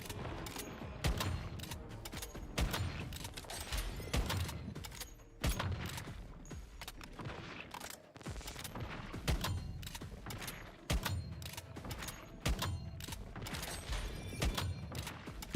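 Rapid bursts of automatic gunfire fill a firefight in the video game Once Human. The volleys are loud and close, with short pauses between them.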